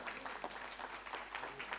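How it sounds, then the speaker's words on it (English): Audience at a literature festival applauding, a steady, fairly faint patter of many hands clapping across the whole moment, with no talk over it. "So he deserves the clapping as well."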